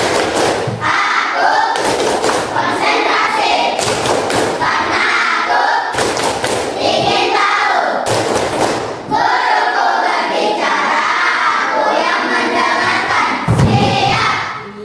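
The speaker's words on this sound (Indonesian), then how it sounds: "kita mau tepuk konsentrasi dulu" Rhythmic bursts of clapping from a class of children doing a concentration clap pattern in a classroom, loud and close, with clustered claps repeating in sets separated by short pauses and some children's voices mixed in.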